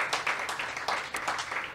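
An audience at an evening neuroscience and artificial intelligence event claps in a short, fairly faint burst of uneven hand claps.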